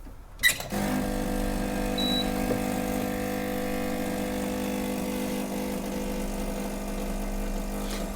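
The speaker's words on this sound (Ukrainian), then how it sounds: "Ставимо стаканчик, таруємо ваги і запускаємо готування." After a sharp click, an espresso machine runs continuously as it brews coffee into a cup on a scale, with a steady pump drone and hum holding at a moderate level throughout.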